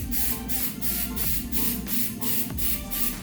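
Upholstery glue spraying onto suede for T-top covers on a 4th gen F-Body, a run of short, even aerosol hiss bursts repeating about every third of a second, close and steady.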